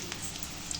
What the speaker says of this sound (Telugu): వర్షం ఫుల్గా పడుతుంది ఫ్రెండ్స్.